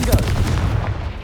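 A Confringo fire spell blast in the Hogwarts Legacy video game: one short, loud, gunshot-like boom that decays quickly, with a voice under it.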